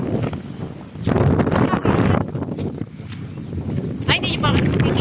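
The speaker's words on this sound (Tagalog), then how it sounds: "Lakas ang hangin, oh." Strong wind gusting outdoors on a walk, a loud broadband roar buffeting the microphone in waves throughout, with people talking over it.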